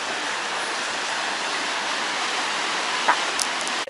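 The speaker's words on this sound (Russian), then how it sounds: "И вот смотрим на море" Steady broadband rush of Baltic Sea waves at Zelenogradsk washing continuously, fairly loud and unbroken, with a brief faint clink near the end.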